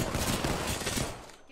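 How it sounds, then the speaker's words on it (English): Dense, continuous gunfire from an Apex Legends firefight, a loud sustained burst of rapid shots that tapers off slightly toward the end, with no clear talk over it. "Getting shot at."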